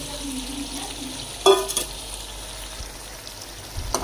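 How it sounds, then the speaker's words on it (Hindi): Marinated chicken for biryani drops into a hot pan with a short burst of sizzling, then settles into a faint, steady frying hiss with a few small spatters. "इधर हम मैरिनेट किया हुआ चिकन डालेंगे इसमें"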